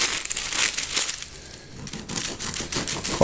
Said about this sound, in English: cut me some fresh bread